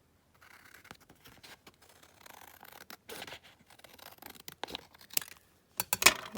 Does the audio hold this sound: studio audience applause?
no